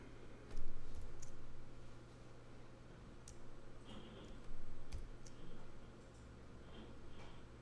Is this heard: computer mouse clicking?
yes